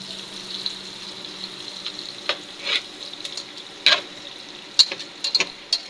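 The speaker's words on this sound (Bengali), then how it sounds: "ওইদিকে তো আমি পেঁয়াজ মরিচ ভাজছি" Onions and chilies fry in a pan with a soft, steady sizzle, broken by scattered clinks and stirring scrapes, fairly close and without talk.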